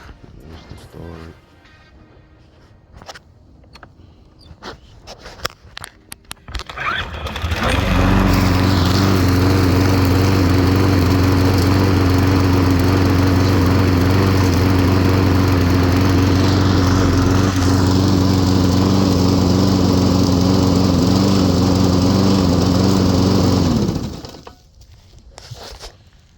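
A salvaged lawnmower engine found in the trash starts after some low rattling and runs loud and steady with a strong harmonic drone for about sixteen seconds, then cuts off.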